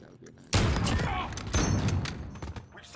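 Gunfire bursts in a first-person shooter game, with a sudden loud volley of rapid shots, a second burst about a second later and scattered quieter impacts after that.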